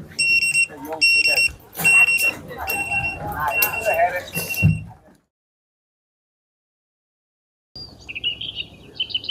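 A Tasslock bike security lock alarm shrills in repeated high electronic beeps and chirps, loud and near, over voices. It falls silent for a few seconds, then starts beeping again.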